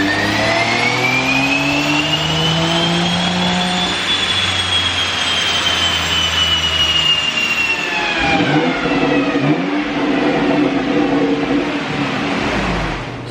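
A BMW X3M's S58 engine, tuned on an ethanol blend, revs hard on a dyno with a loud rising roar that sweeps up, holds, then drops before climbing again, close and with no talk.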